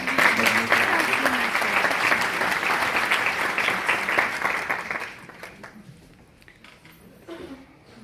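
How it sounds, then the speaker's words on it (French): An audience at a university law and economics faculty event applauds warmly, sustained loud clapping that fades out after about five seconds, leaving a quieter room with a few stray claps. "je vous invite à applaudir chaleureusement."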